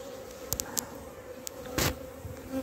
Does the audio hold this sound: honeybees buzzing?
yes